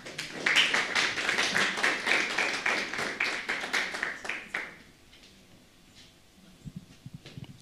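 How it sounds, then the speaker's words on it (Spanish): A congregation at a prayer service applauds the choir, a dense burst of rhythmic clapping that holds steady for several seconds, then quickly fades to quiet with a few stray taps. "Recibimos al coro Nueva Alegría con un fuerte aplauso"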